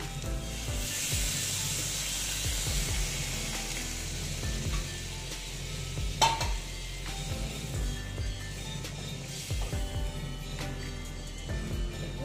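Water poured into a pan of frying soya chunk and potato curry makes a steady, close hiss and sizzle that runs throughout, with a faint tonal hum and an occasional clink.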